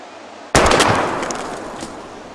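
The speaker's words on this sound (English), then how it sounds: "We're gonna shoot all these bottles without wasting a single bullet." Gunshot fired at bottles in the video game Life is Strange, one sudden loud blast from near silence followed by a long fading rumble and faint debris rattle.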